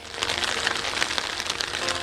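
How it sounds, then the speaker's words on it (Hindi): Steady wash of December rain in Pakistan, a dense even hiss of drops hitting surfaces with faint individual patters, continuous and unbroken with no voices. "दिसंबर का महीना और सर्दी की पहली बारिश"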